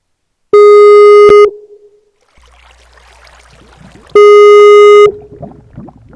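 Loud electronic phone ringback tone for a call that goes unanswered, two long steady beeps separated by a few seconds, with a brief burst of speaker noise and rustling between them.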